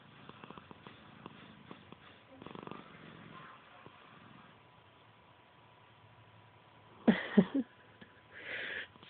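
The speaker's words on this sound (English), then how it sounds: "Now I hear her purring. Listen to her purr." A domestic cat purring faintly and steadily up close, with a few louder snuffly breaths and rustles near the end.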